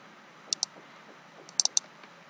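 Sharp plastic clicks of keys being pressed on a computer keyboard, a quick pair followed by a cluster of three or four taps, close and quiet over a faint hiss.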